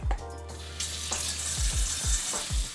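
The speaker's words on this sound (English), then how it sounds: "We'll then rinse off our pork knuckles individually in the sink." Tap water runs into a sink as pork knuckles are rinsed one by one, a close hiss broken by a brief pause and then several low thuds and splashes of handling.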